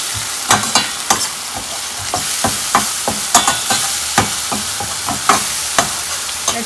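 Tamarind chutney and spices are stirred in a hot pan, a spatula scraping and tapping in irregular strokes over a soft steady sizzle, close and clear with no talking.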